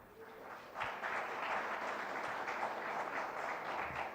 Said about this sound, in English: a big round of applause for Faculty of Computer Technology and Professor Rao sir and Suceendran sir.